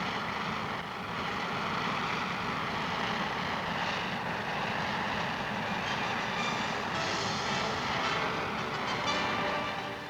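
A military transport aircraft takes off, its engines producing a loud, steady, broadband roar that holds for the whole stretch with no voices over it.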